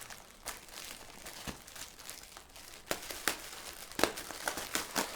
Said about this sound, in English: Tear it open.